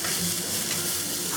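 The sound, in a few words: stir-frying onion for spicy eggplant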